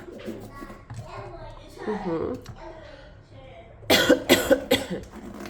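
A person talks briefly, then breaks into a burst of several harsh, close coughs in quick succession.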